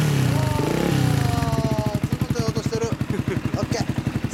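A customized 2011 Yamaha YZF-R125 fitted with an Italian Leo Vince exhaust idles with a steady, rapid pulsing thump, close and loud, after a brief stretch of talk at the start.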